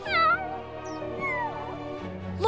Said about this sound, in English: Can you believe how bad he's tormenting Mary's poor little kitten?